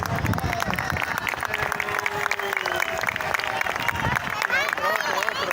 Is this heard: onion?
no